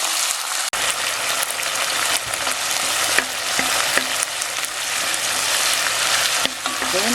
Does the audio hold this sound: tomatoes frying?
yes